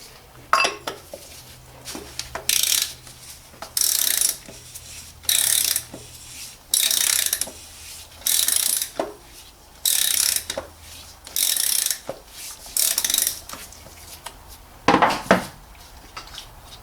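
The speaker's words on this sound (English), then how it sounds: "The oil filter housing we can open with one of these" Ratcheting clicks in repeated bursts from a tool on the oil filter housing of a 2004–2011 BMW E87 116i, close and clear with short pauses between strokes and no talk.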